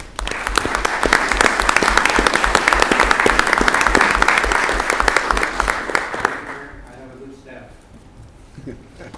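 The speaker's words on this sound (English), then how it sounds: "Let's give Pete a hand of applause." An audience at a city council meeting gives a hearty round of applause for the deputy city manager and CFO, dense, loud clapping for about six seconds that then fades quickly into room murmur.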